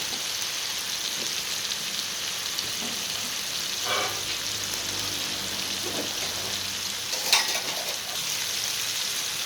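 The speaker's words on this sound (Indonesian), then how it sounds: "Aduk sampai mateng, bumbune dioseng-oseng." Steady frying sizzle of fried rice goes on with occasional scraping stirs of a utensil in a pan and a few soft clinks, heard close and fairly quiet.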